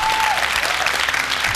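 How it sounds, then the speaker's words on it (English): A studio audience at a televised debate show claps in a brief, steady burst of dense applause, close and continuous for under two seconds. "A round of applause for our very first debate."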